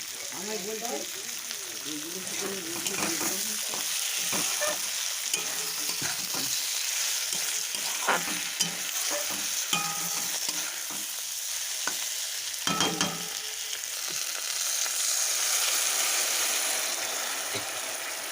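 A Bengali-style curry of small mourala river fish sizzles and fries in a pan, with scraping stir strokes and occasional clinks over the steady crackle, close by and a voice speaking now and then.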